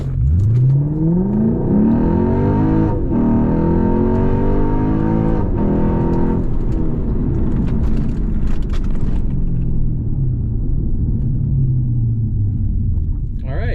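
A supercharged Lexus IS 350 launches in a drag run, its engine climbing in pitch through rising gear pulls with brief shift breaks, loud and close from inside the car before easing off.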